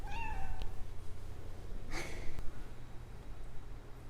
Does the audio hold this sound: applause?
no